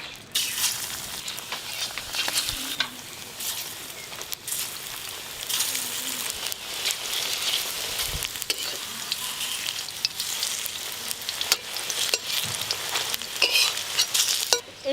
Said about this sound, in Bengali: দিদি আগে থেকে কোঁড়াতে সর্ষের তেল দিয়ে গরম করে দিয়েছে এবার আমি শুধু বড়াগুলো ভেজে নেব